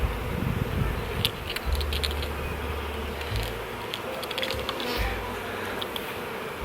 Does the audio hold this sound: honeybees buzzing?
yes